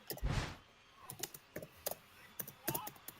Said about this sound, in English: we can hear you typing, Doom.